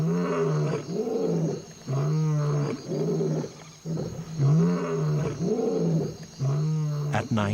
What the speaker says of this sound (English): a lion's roar